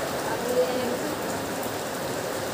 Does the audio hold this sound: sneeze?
no